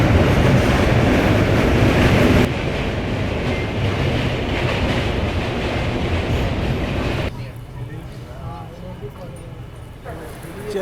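Farakka Express pulling into Varanasi Junction: a loud, steady rumble of train running noise at close range that drops to a quieter, duller roar partway through, with voices mixed in.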